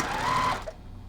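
A sewing machine stitching fabric while sewing a quilt block makes a close, loud whirring run for about half a second, then stops abruptly and leaves quiet room noise.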